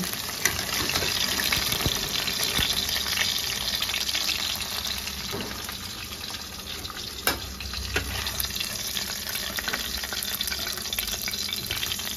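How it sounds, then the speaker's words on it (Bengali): Tangra fish frying in hot oil, a steady broad sizzle that holds close and even, with a few small clinks and pops over it. "মাছগুলো ভাজা হয়ে গেছে, এবার আমি এগুলোকে তুলে নেব।"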